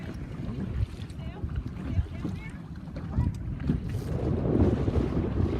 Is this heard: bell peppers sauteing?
no